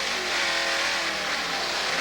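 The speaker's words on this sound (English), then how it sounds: "They got a problem now with that starboard engine, and you can hear it as well." Racing powerboat engines roar steadily at a distance during a Cigarette offshore grand prix off Miami, a broad continuous drone with the starboard engine failing as the boat comes off plane.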